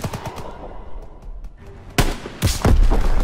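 Rapid bursts of gunfire crack out in the Death Factory mission of the World War II shooter Call of Duty: WWII, scattered shots early on building into loud, close volleys toward the end.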